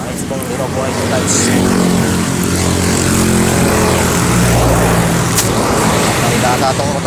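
A motorcycle engine runs close by, a loud steady drone that holds at a constant level throughout, with a faint voice talking over it.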